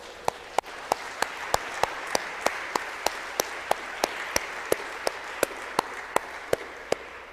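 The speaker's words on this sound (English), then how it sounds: "Should we clap for Jesus and Mary?" Rhythmic unison clapping from a church congregation honoring Jesus and Mary, steady evenly spaced claps over roughly seven seconds, sharp and fairly loud above a diffuse room wash.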